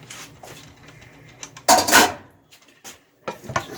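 Pasta being stirred in a bowl for macaroni salad, a series of soft scrapes and light clinks with one louder, longer scraping stir in the middle.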